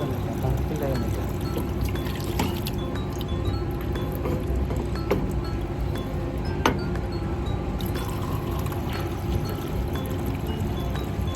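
Water pours into a glass, with light clinks and a liquid trickle, under background voices and room noise.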